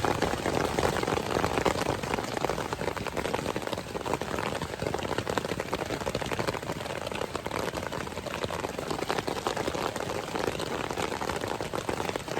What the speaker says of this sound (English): I'm getting like faint raindrops,